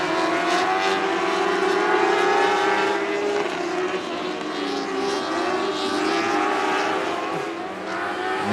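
Sprint cars roar around the Coos Bay Speedway oval in a continuous, loud engine drone with shifting pitch as the field races, no talking over it.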